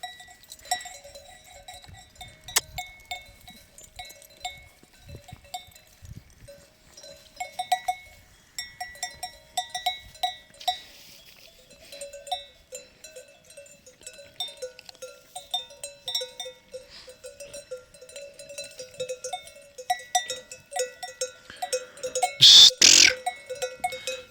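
Many small bells clink and jangle irregularly as sheep move about beside a fountain, with a brief louder rustle near the end; no talking.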